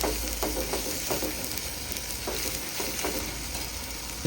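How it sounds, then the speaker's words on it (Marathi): Ground okra and sorrel paste, stone-ground, sizzling in hot oil as it is stirred: a continuous bright frying hiss with periodic scraping stir strokes, close and steady, no voices. "ते असं मस्तपैकी परतायचं पाहता छान असं तेल सुटेपर्यंत"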